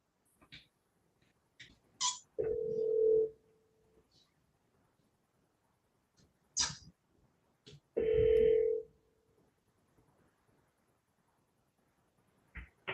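An outgoing phone call ringing back, two long electronic ring tones with short clicks and beeps between them, separated by several seconds of near silence.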